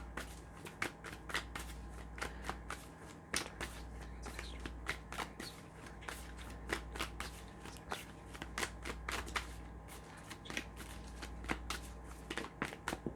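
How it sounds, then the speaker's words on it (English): Green Menagerie tarot deck being shuffled, a steady run of quick crisp card riffles and flicks over a low background hum, close and fairly quiet throughout. "So let's pull some cards now. I'm using the Green Menagerie Tarot for you."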